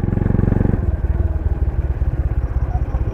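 Engine of a new Honda Click scooter idling and pulsing steadily nearby, a low rhythmic throb that shifts slightly in pitch partway through, heard alone without talk.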